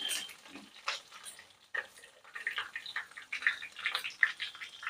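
Cinnamon, ginger and bay leaf frying in hot oil, a soft hiss and crackle with irregular stirring scrapes against the pan, close and fairly quiet.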